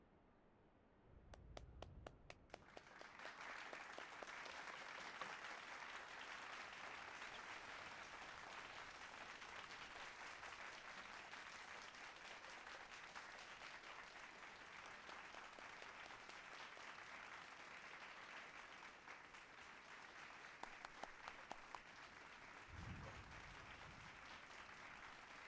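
Sustained crowd applause in the video game Final Fantasy XIV, starting with a few claps and swelling into steady, dense clapping that carries on for many seconds, moderately loud with no talk.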